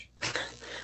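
A single short, faint sneeze bursts out from a performer or audience member at a live improv comedy show, with quiet room tone around it.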